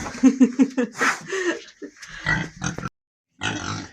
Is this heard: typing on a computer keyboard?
no